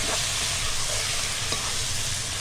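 Chicken with spices sizzles steadily in a pan, loud and close, with occasional stirring scrapes and no talk.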